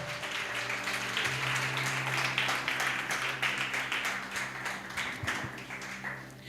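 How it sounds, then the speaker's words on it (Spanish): A church congregation applauds in a dense, steady wash of many hands clapping together, sustained for several seconds with a low hum in the background. "Si va a aplaudir, aplauda bien"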